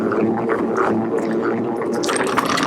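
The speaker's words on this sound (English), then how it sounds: "Now, centrifugal force is forcing the water out of the lettuce." A salad spinner whirls wet lettuce with a steady rushing, whooshing churn of water and plastic, continuous and fairly loud, rising into a brighter splashy hiss near the end.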